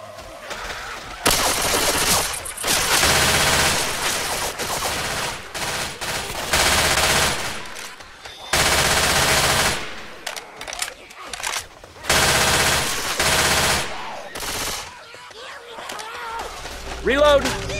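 Rapid automatic gunfire in the Left 4 Dead 2 video game, long loud bursts broken by short pauses and clicks, with players talking over the shooting.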